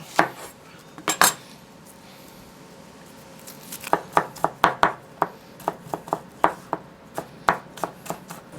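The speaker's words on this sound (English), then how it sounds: "So now I will chop the shallots" Shallots being chopped with a knife on a board: two quick knocks early on, then a steady run of sharp, close chops, about a dozen in a loose rhythm.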